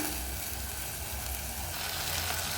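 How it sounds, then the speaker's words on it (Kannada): Ginger garlic paste frying with rice in a pan for home-made dum biryani, a dense, even hiss of hot oil heard close and steady throughout, no talking. "ಈಗ ಶುಂಠಿ ಬೆಳ್ಳುಳ್ಳಿ ಪೇಸ್ಟ್ ಫ್ರೈ ಆಗ್ತಾಯಿದೆ"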